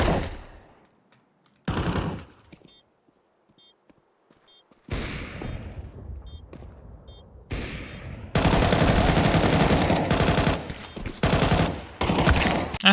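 Counter-Strike 2 gunfire arrives as loud bursts of rapid automatic shots separated by short silences, with the last stretch a dense, sustained volley.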